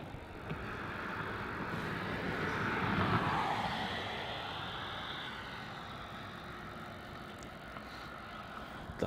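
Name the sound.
Virgin Australia jet airliner taking off from runway 16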